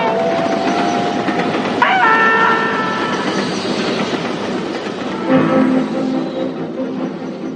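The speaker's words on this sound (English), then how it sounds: "Listen, there's another train coming." A steam-era train rumbles past in a 1930s BBC radio drama sound effect, a steady rolling roar with rail clatter and two bursts of whistle tones near the start and middle, loud and close throughout.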